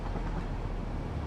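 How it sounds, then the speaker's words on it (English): A train ride in the video game Satisfactory gives a steady, dense rumble of rolling rail noise, loud and unbroken for the whole moment, with no talking. "while we're riding the train, I have turned up the game noise a little bit"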